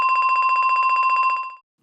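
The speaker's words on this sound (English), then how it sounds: "So we have a really grainy part of it that's being repeated." A very short, grainy slice of an old sample loops rapidly in a sampler, a buzzy, bell-like tone stuttering in fast even pulses before cutting off abruptly.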